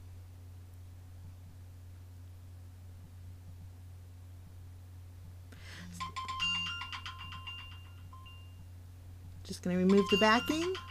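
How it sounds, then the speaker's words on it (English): A mobile phone rings during paper-crafting, a short tonal ringtone burst near the middle and a louder one at the end, over steady low hum while someone speaks quietly. "Sorry about my phone."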